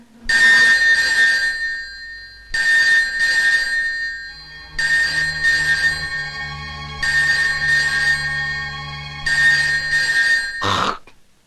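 A telephone rings loudly in a dramatic film scene, five long trilling bursts separated by short pauses, the last ring cut off abruptly.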